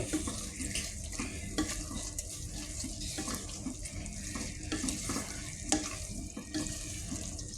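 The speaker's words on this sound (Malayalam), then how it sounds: "മസാല എല്ലായിടത്തേക്ക് എത്തുന്ന രീതിയിൽ മിക്സാക്കി എടുക്കുക." Masala chicken curry being stirred in a pan, a busy mix of wet scraping, spoon-on-pan knocks and soft sizzling, fairly close and moderate in level, with no voices.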